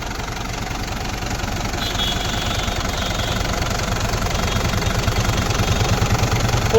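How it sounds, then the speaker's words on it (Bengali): A Tata 3000cc, 100-horsepower diesel engine idles with a steady, rapid low knocking pulse, close and loud, holding an even rhythm with a faint higher whine above it. "একবার তোমরা সবাই ইঞ্জিনের সাউন্ডটা একবার শুনো"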